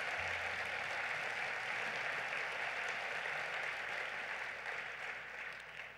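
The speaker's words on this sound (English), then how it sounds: "Please give them a round of applause." Sustained audience applause at a Netroots Nation 2018 gathering in Jackson, Mississippi, honoring young people from Parkland, Florida; dense, even clapping that fills the room and tapers slightly near the end.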